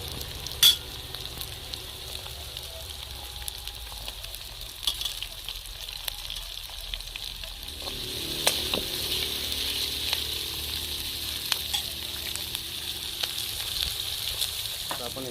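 Chopped onion and capsicum stir-fry in a hot pan with oil, ginger-garlic paste and soybean pieces for a spicy Chinese-style soybean chilli, giving a steady close sizzle that grows louder and brighter partway through, with occasional spatula scrapes.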